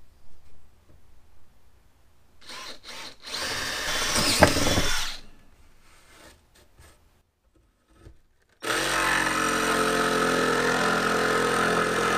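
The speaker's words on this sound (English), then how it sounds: "first I just need to drill a pilot hole" A power drill whirs in a few short bursts while drilling a pilot hole for an attic fan, then runs steadily for a couple of seconds and stops, before a louder continuous machine noise begins.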